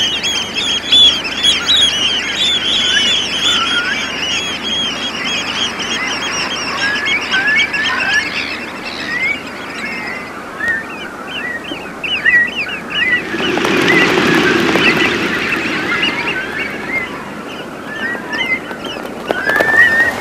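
A flock of ducks honks and calls continuously, then a loud rush of wingbeats and splashing bursts out midway as the threatened birds take off.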